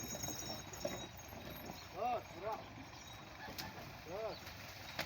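Horse hooves clip-clop on hard ground while the horse pulls a cart, a few distinct hoof strikes rising and falling over background noise.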